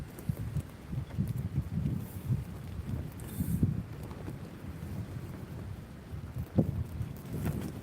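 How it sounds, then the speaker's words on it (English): Strong coastal wind buffets the microphone during a fishing trip on the shore, a steady rough roar with gusty swells and occasional knocks, and no talk. "Absolutely insane winds."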